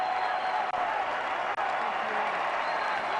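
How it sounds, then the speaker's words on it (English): Sustained crowd applause on a political convention floor at the Republican National Convention, a dense steady roar of clapping and cheering heard from a distance with no break across the short span. "as we listen to the applause"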